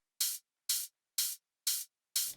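Five identical hits of an open hi-hat drum sample at its original, unshortened length, evenly spaced about half a second apart, each a bright sizzling wash that rings briefly and cuts off, with silence between.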